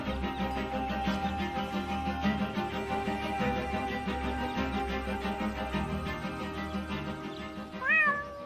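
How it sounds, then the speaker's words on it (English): Cat meowing from up in a tree in the video game Deponia, repeated plaintive meows over a steady musical backing, with a sharper rising meow near the end. "my poor kitty climbed up the tree and she's afraid to come down"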